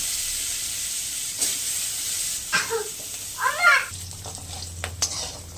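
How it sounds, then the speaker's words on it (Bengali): Jackfruit seeds fry in oil with a steady close sizzle and a few clinks of stirring, while a cat meows twice nearby partway through. "কাঁঠালের বীজগুলো ভেজে নেব।"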